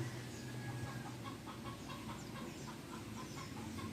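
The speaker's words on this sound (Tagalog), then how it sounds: "Okay, yan yung mga ibon natin." Domestic fowl cluck and call continuously at low level, a busy flock of chickens heard from a short distance with no talk over them.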